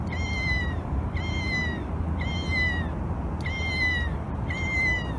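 A cat keychain toy plays an electronic meow about once a second, five evenly spaced mewing calls over a low outdoor rumble with no talking.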